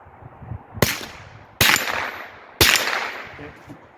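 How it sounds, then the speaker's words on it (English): Three sharp, loud rifle shots fired from a bipod using an offset red dot, spaced about a second apart, each with a short decaying echo and no talk in between. "I'm shooting in between the legs of the tripod."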